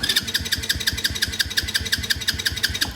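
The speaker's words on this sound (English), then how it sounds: "Now this machine will not start. I can crank on this bad girl all day" A 125cc Venom ATV engine cranks repeatedly without catching, a steady rapid starter whir with rhythmic pulsing compression beats, loud and close, no voices.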